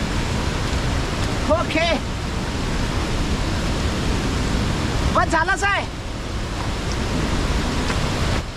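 Nanemachi waterfall in the Sahyadri hills roars as a constant, dense rush of water and wind close by, with brief talk heard over it twice.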